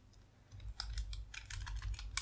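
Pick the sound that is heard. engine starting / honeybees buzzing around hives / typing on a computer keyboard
typing on a computer keyboard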